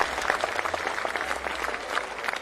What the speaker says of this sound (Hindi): हमारे बीच में ताली बजा के स्वागत करते हैं।